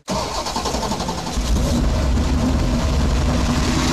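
A 9.3-litre V8 car engine cranks and catches, then settles into a deep, loud, steady rumble.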